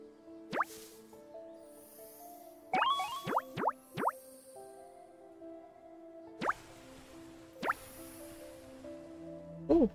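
Water drips in the Pan'orama video game as scattered, sharp plopping drops with short pitch bends, some in quick clusters, over a soft tonal background, with no talk.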